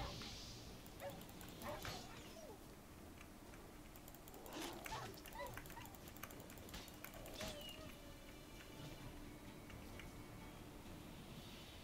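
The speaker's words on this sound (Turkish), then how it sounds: "Köpekler nereden çıktı oğlum ya?" Dogs bark and yip now and then in The Witcher 3 video game, over a steady busy game soundscape with occasional ticking, set fairly back in the mix.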